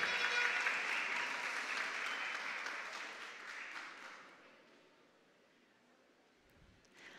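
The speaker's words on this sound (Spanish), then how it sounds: "Fuerte el aplauso para el Ministerio de Ambiente." Audience applause at a regional oratory contest award ceremony in Herrera province, a sustained round of clapping that fades out over several seconds, leaving near silence.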